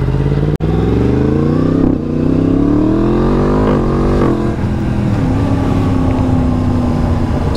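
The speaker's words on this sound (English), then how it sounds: "my process is to simply get out on the bike, don't go crazy, and slowly wear off the middle patch of tyre" A motorcycle ridden gently to scrub in new tyres hums steadily and close by, its engine pitch rising and easing through several gear changes over a constant loud drone.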